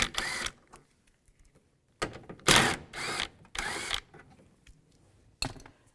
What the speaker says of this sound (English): Now there's three nuts right here. We're going to use a 10 millimeter socket.